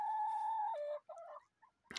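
A broody hen giving one long tonal call that breaks into a few short clucks, close and alone, ending in a brief rustle.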